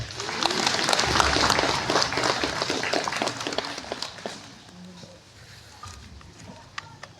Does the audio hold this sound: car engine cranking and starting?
no